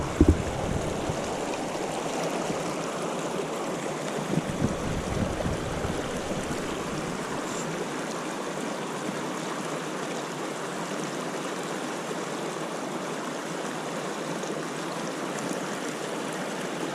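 The East Walker River near Bridgeport, California, rushes past in a steady, broad wash of flowing water, moderately loud and unbroken, with no voices.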